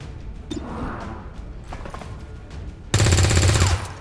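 A burst of rapid gunfire from the shard gun or SMG in the video game XCOM: Long War of the Chosen, played on Legend difficulty, erupts loudly and dense near the end after a quieter stretch of game ambience.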